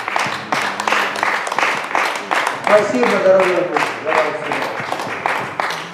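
Church congregation applauding during a worship service, rhythmic clapping from many hands filling the room throughout, while someone speaks over it.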